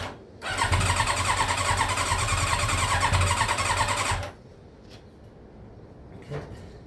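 Yamaha YZF Thunderace motorcycle under restoration starting on choke, the engine catching and running steadily for about four seconds, loud and close, before cutting out into quiet workshop noise.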